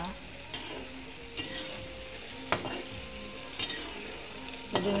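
Tofu fries and sizzles steadily in a pan, with a spatula stirring and scraping in several distinct strokes spread across the clip, close and moderately loud, with no talking.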